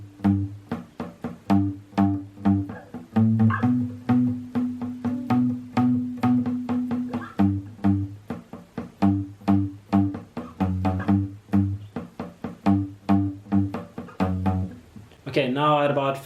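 Guitar picking the second verse riff of a song slowly, with evenly spaced plucked notes in a repeating pattern, heard close and clear and ending with a brief scrape.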